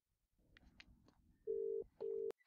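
Two long, steady electronic beeps, like a phone's ringback tone, follow some faint background rustling and noise.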